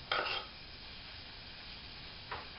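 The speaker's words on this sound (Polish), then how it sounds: "Jak tylko się rozgrzeje, dodaję cebulkę." Chopped onion dropped into hot oil in a saucepan, a short burst of sizzling and clatter at the start, then a faint steady frying hiss with a brief second scrape near the end.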